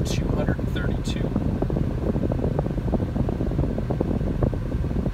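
High-speed radiator cooling fans on a Porsche 996 run hot after a drive, giving a steady broadband whoosh with a low hum beneath. A few faint tones occur near the start.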